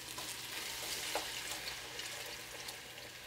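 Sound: flour and water poured into pan of vegetables, sizzling

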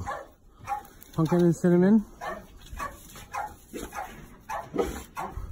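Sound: dogs barking

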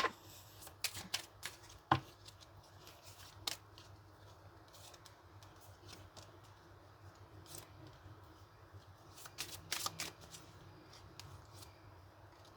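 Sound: tarot cards being shuffled

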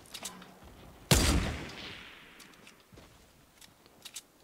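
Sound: gunfire in Fortnite video game

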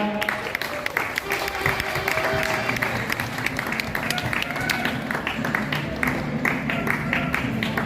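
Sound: audience applause welcoming referees at sepak takraw match

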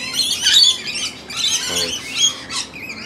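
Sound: mixed flock of wild suburban Australian birds calling

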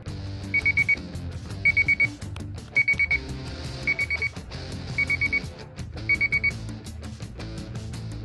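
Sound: brew day timer alarm going off

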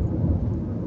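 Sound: rain at night

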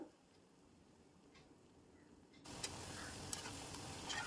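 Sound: rava vada frying in oil

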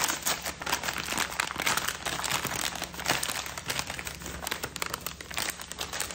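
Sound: crinkling of a plastic package being opened

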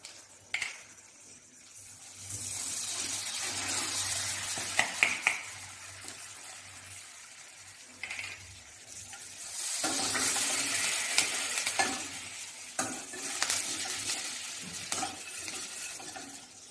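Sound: butter tempering sizzling with mustard seeds, asafoetida and curry leaves

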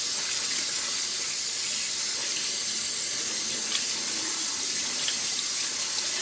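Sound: cold tap water rinsing rice in fine mesh strainer

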